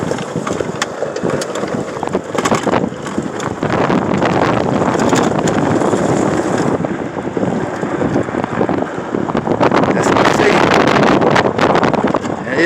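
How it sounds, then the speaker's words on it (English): Gusty wind roars across the microphone at an outdoor shooting range, surging and easing in loud bursts, and someone talks at times underneath. "It is a little bit windy"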